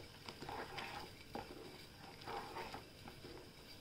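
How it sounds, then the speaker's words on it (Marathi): Garlic spinach bhaji with besan and a pinch of sugar is being stirred in a pan, with a few soft, close scraping and patting strokes at a low level and no talking. "आणि आता आपण हलवून घेऊया."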